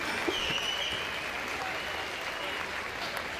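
Steady crowd applause at an outdoor Moravian Day celebration, a continuous wash of many hands clapping at an even level, heard from some distance with a faint tone in the background.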